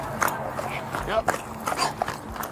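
Police K-9 dog barking and yelping during an arrest outdoors, short excited barks repeating under loud shouted commands from officers.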